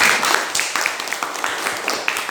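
Children clapping their hands in a classroom, a scattered burst of uneven claps at moderate volume that continues briefly without voices.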